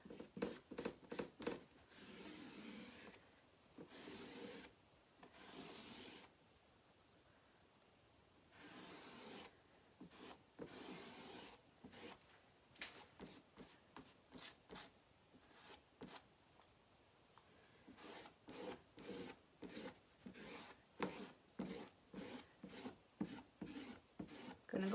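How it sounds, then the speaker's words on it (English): A squeegee spreads chalk paste across a screen stencil in a run of close, soft scraping strokes, slower at first and then faster and rhythmic, with no talking. "Squeegee that over."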